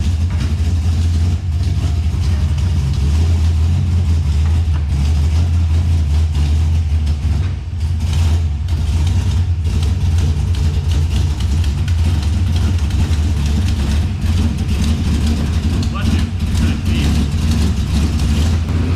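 A Cadillac CTS-V engine swapped into a Nissan 240 runs steadily throughout, a loud, low continuous rumble with slight fluctuations, close by and with no voices.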